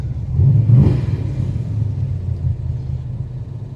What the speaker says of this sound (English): You can hear those solid lifters.